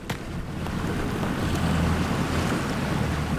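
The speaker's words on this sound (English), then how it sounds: "the wind is just gusting over the hill and kept us up most of the night with about 28 to 29 knots of gusts" Strong wind gusting to about 28 knots roars over a sailboat at anchor in a winter anchorage, with a steady broadband rush, water slapping against the hull and a low rumble. It is loud and close, with no talking.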